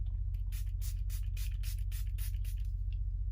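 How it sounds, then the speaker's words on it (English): A rapid series of short bursts of makeup setting spray, about ten quick mist sprays in a row, close and fairly soft over a steady low hum. "now I'm gonna go ahead and spray the signature glow"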